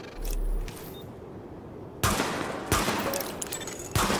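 Gunfire rings out during a weapon test in the video game The Division, with a couple of early muffled shots followed by loud rapid bursts of automatic fire in short volleys.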